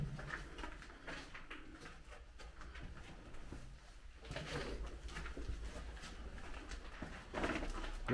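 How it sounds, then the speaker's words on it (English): Pigeons coo inside an abandoned swimming pool building, a low murmuring call echoing faintly among scattered rustling and footstep noise. "Probably pigeons."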